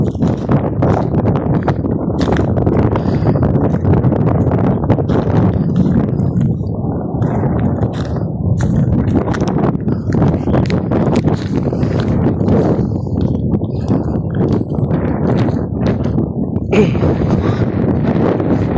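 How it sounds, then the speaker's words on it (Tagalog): Strong wind buffets the microphone in a loud, continuous roar, gusting heavier and lighter in waves throughout. "Lakas ng hangin, grabe."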